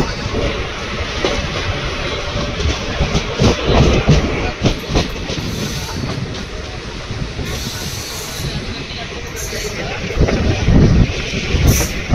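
A train pulls out of Uppalapadu station on the Nandyal–Yerraguntla railway line, with a loud, steady rumble, hiss and rhythmic wheel clatter filling the whole stretch.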